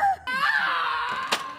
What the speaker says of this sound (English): for hearing screaming